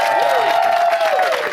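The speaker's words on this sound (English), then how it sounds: "give yourselves a round of applause" A studio audience breaks into applause and cheering, a dense, loud wash of clapping with whoops rising over it, under a pitched tone that sweeps across the burst.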